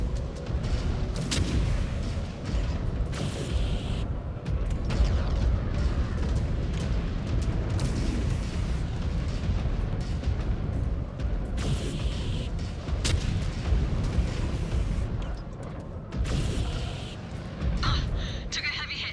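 Missiles hit a target in a space combat video game, with a continuous dense rumble of booms and blasts, while a person talks over the din.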